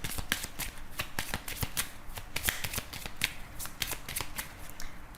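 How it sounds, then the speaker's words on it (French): A deck of Lenormand oracle cards being riffle-shuffled up close, a steady run of crisp flicking snaps for a weekly reading, with no voice over it. "on va faire un tirage en 13 cartes avec le Ferry, le Normand"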